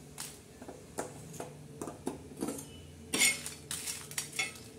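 Dry red chillies are roasted on a tava while a spatula scrapes and clinks against the metal pan in quiet, irregular strokes, with no voices.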